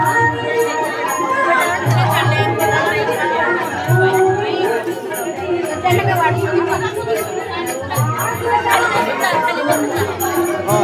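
Overlapping voices of a large crowd murmur and chatter continuously at a religious assembly and guru worship ceremony in Ridhora Kamthi, forming a busy, near hubbub with louder voices surfacing now and then.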